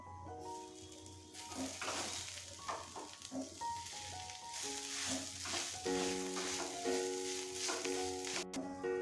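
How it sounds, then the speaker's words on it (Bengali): A filling fries and sizzles in a pan while being stirred, steady hiss with scraping strokes and light knocks against the pan, close by, over a low tonal hum. "ঢাকনা সরিয়ে আবারও কিছুক্ষণ নাড়াচাড়া করে নেব।"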